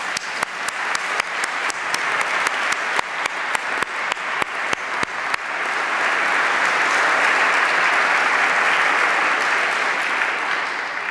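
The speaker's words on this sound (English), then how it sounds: "Can we have another round of applause for all of our veterans?" A crowd at a Veterans Day celebration applauds the veterans, starting with scattered sharp individual claps that swell into a dense, sustained wash of applause which holds steady to the end.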